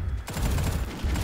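Pistol fire in a video game, a rapid run of sharp shots that begins abruptly after a brief lull and continues loud and dense, close up, with no voices over it.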